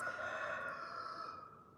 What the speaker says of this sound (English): do you hear the rooster?